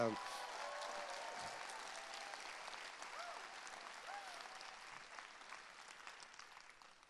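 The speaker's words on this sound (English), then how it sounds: "how about a round of applause for Giovanni and Archangel?" A summit audience in Toronto applauds in a large hall, steady, broad clapping from many people that slowly fades toward the end while a voice carries over it.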